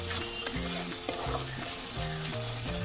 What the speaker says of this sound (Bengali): আর এবার আমি একটু গরম মশলা 1 চামচ মতো দিয়ে দিলাম, ছোট চামচের। দিয়ে এটা আবারও কষাবো।